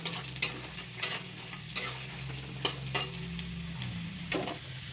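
Cashews frying in oil in a pan give a soft, crackling sizzle, broken by repeated sharp clicks and scrapes of stirring, close but fairly quiet, with no speech.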